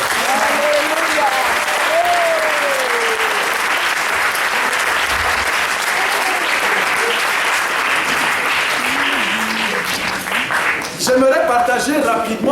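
A church congregation claps and cheers loudly and steadily for several seconds in praise of the Lord, the sustained applause filling the room, with a voice briefly rising over the crowd near the end.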